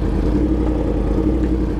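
A Kawasaki H2 motorcycle engine roars hard at full throttle, a loud, dense, continuous low growl heard close with no talk.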